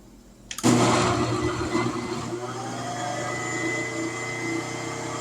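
A blender starts abruptly and whirs loudly as it blends roasted pumpkin with no liquid, its motor straining with an uneven, churning tone that settles into a steady grind.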